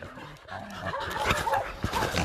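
Several dogs at an animal shelter whimper and yip excitedly close by, with panting and short whines blending into a busy, lively jumble.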